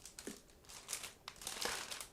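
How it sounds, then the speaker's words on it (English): Clear plastic bag holding the transparent canopy parts of an ICM 1/48 Ju 88D-1 model kit being opened, giving close, dry crinkling and rustling in several short bursts with no talking. "here we have the separate plastic bag for clear parts, so let's open it as well"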